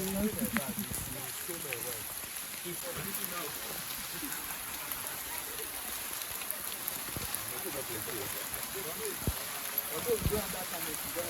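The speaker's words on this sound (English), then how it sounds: "The rain is not even letting us get like the very best experience" Rain falls steadily during a hike at Ikogosi warm and cold springs in Ekiti, a constant hiss of drops spread across the whole clip, with a few louder patters and faint voices underneath.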